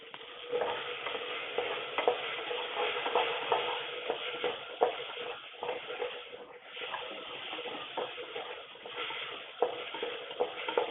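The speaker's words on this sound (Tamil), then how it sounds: "தக்காளி ஆட் பண்ணி கொஞ்சம் ஃப்ரை பண்ணிக்கலாம்" Tomatoes frying in a pan for sambar rice, a continuous soft sizzle with constant shuffling stirring strokes, close and steady throughout, no speech.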